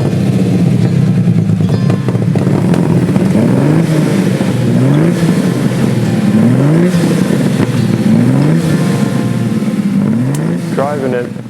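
A Lamborghini Miura engine runs loudly and steadily throughout, with repeated rising rev sweeps as it pulls through the gears, close and continuous with no talk.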